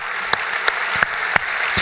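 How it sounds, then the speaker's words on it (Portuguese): A church congregation applauds during a sermon, producing steady, loud, dense clapping with a few sharper accents standing out from the continuous wash. "Você pode aplaudir o Senhor?"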